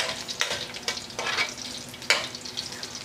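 Garlic sautés in a frying pan (kawali) with a steady, moderate sizzle and several sharp scraping stirs at irregular intervals.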